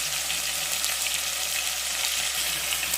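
Onions sizzle in a pan for mutton curry, a steady, even crackling fry that is moderately quiet and continuous throughout, with no talking.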